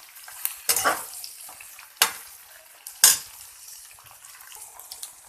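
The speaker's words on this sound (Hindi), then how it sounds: "अब भिंडी को हमने फ्राई करना है, हाफ कुक करना है हमें इसको" Okra fries with onion in a pan as a faint sizzle, broken by three loud scraping stirs against the pan at roughly one-second gaps, nearby, with no speech.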